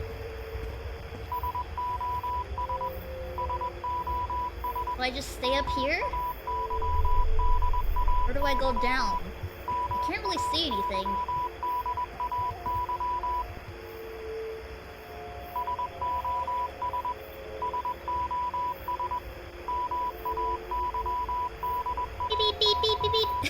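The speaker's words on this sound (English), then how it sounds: "It's sending out Morse code somehow." A steady electronic beacon in a video game pulses in Morse-like bursts of short and long beeps, continuing almost without pause. A voice speaks briefly over it during the first half.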